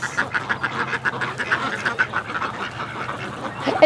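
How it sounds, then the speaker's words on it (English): Wild ducks quack repeatedly in a rapid, chattering series, moderately close, with a slightly louder call near the end. "Yes, but these are wild ducks."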